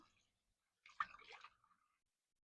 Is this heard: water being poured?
yes